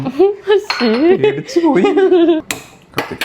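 Metal pan and utensils clink and clatter in a home kitchen while a sauce is started with sliced garlic, a few sharp knocks near the end, mostly under lively talking voices.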